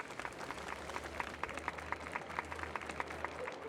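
Crowd applause rises at the Charmony Festival in the game Honkai Star Rail, a steady wash of many hands clapping at moderate distance over a low hum, with a few sharper claps standing out.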